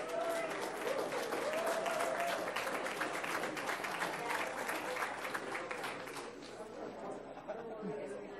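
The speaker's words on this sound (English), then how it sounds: "Let's give all these schools a big round of applause." An audience at a Palm Beach County school garden awards ceremony applauds for the schools, with steady, dense clapping throughout and crowd chatter mixed in, fading slightly toward the end.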